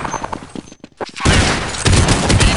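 Counter-Strike gunfire on a Wild West map: a few sharp shots, a short gap near-silence, then a loud sustained barrage of rapid close fire.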